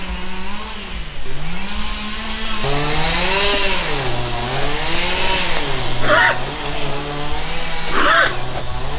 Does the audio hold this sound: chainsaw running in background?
yes